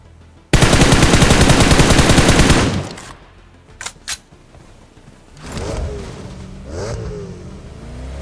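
An MG3 machine gun fires a long, loud, rapid burst in PUBG Mobile, followed by a few scattered shots and then a vehicle engine revving up.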